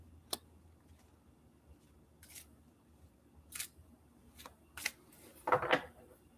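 Tarot cards shuffled from a nearly finished deck, a series of short, soft riffling bursts and clicks scattered irregularly in a quiet room, getting busier toward the end.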